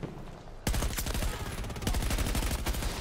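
Rapid gunfire from the video game Battlefield 2042 erupts after a brief quiet lead-in, dense overlapping bursts of automatic fire and shots that stay loud and close throughout.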